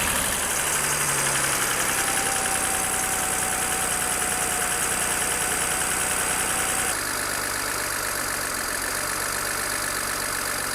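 A cheap BMW 335i with a B58 engine and a big turbo upgrade idles steadily after start-up, a continuous loud mid-range engine hum with a faint high whine, no talking.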